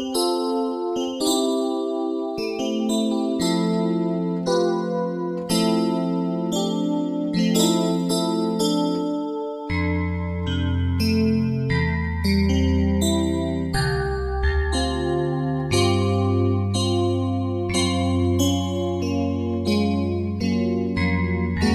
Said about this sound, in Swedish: Det här ljudet heter A80 Quarks. Och det är ett sprött FM-pianoljud.